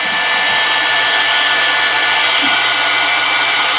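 A hair dryer blowing on wet paint and ink on a collaged fabric bag, a loud, steady, close roar of air and motor that runs unbroken the whole time with no talking.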